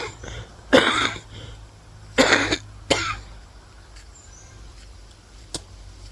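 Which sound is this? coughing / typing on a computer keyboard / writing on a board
coughing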